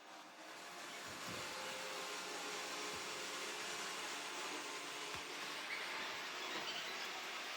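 An Ecovacs Deebot DN622 robot vacuum runs a test run, giving a steady, fairly faint broadband whir that holds level throughout, with a few soft low bumps and no voices.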